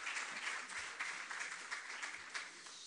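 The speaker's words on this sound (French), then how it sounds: "On applaudit Guénolé, mesdames, messieurs." An audience at a Node.js tech conference talk applauds a presenter, a steady, fairly faint wash of many hands clapping together with no pauses and no voices over it.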